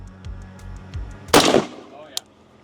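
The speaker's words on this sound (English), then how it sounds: "Firing." A rifle shot fired at a ballistic test head in a recreation of an assassination attempt: one sharp, loud crack after low background rumble, followed by a faint click.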